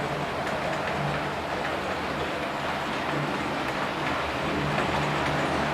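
A model railway train hauling blue-grey InterCity sleeper coaches runs along the layout with a continuous, fairly loud rolling rumble and hiss that holds steady from start to finish.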